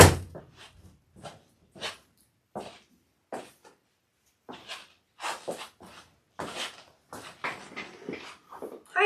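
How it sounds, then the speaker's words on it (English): Dogs give a string of short, sharp barks and yips from nearby, scattered and irregular with brief quiet gaps, growing busier toward the end. "My dogs are going crazy."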